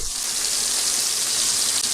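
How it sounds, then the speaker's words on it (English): Steady, dense sizzling of meatballs frying in a hot pan, a continuous crackling hiss with no voices. "Now we'll fry them on all sides."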